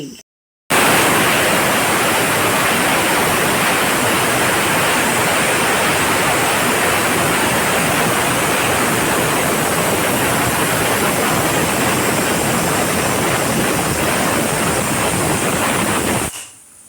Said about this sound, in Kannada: ಸ್ವಲ್ಪ ನೀರು ಬರಲಿಲ್ಲದಾಗೆ ಕುಕ್ಕರ್ ಚೆನ್ನಾಗಿ ಕೂಗುತ್ತೆ